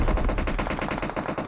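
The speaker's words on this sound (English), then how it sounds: "So much gunfire" Dense automatic gunfire from a battle royale video game, rapid overlapping bursts rattling continuously and loudly, with no speech over it.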